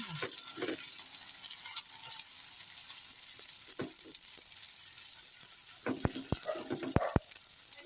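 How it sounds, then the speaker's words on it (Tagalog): Lumpia frying in hot oil sizzles with a steady, bright crackle throughout, and a few sharp clicks and clatters near the end. "So, prito na natin ang ating lumpia."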